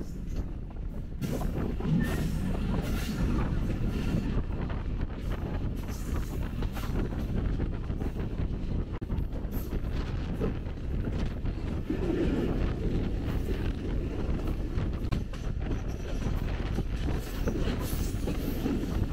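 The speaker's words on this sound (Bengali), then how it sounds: "রাজশাহী কমিউটার ছেড়ে দিল ললিতনগর রেলওয়ে স্টেশন।" Rajshahi Commuter train running after leaving Lalitnagar railway station in Bangladesh: a continuous loud rumble and rattle of wheels and carriages heard from on board, with wind buffeting the microphone, steady throughout and no talking.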